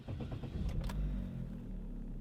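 A car engine cranking and firing up, a few quick starter pulses followed by a catch and a deep, steady low rumble settling into idle, close and moderately quiet, with no talking.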